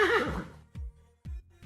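A horse whinnies loudly once, a shrill descending neigh, followed by two short snorting blows, close and with no talking.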